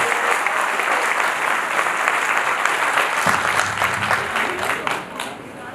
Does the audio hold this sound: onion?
no